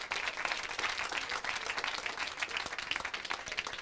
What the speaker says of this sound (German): einen Applaus für Hautability